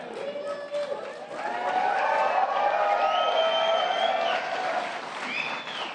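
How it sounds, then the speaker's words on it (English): An audience at the White House Tribal Nations Summit breaks into applause that swells quickly and holds as steady, full clapping from a large crowd in a hall, then tapers off near the end. "you should be clapping"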